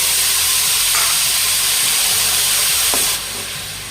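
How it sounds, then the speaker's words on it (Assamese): Grated coconut frying in a pan for coconut ladoo sizzles and hisses loudly as a little water is added, a dense steady steaming roar that eases slightly near the end. "ধুনীয়াকৈ ভাজা আৰু এইখিনি পানী ইয়াত অলপমান দি দিওঁ এনেকৈ"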